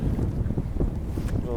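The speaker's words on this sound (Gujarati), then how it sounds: "અત્યારે તો મિત્રો પવન છે" Wind blowing hard at sea aboard a fishing boat, a steady loud low roar buffeting the microphone with no break.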